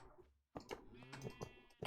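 A sheep bleats in Minecraft, several short blocky bleats in quick succession at close range, with no talk over them.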